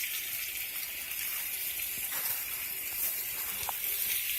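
Squash with seasoning cooks in a pan, giving a steady quiet sizzle and hiss that continues evenly throughout with faint small pops.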